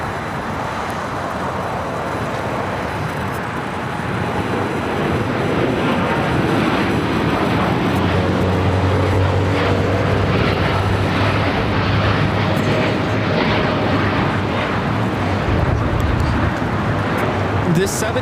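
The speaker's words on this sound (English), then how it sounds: "This 787-8 Dreamliner is taking off to Tokyo Narita." A Japan Airlines Boeing 787-8 Dreamliner taking off from LAX for Tokyo Narita, a loud rumbling jet roar that swells and deepens midway as the engines build, with a voice talking over it.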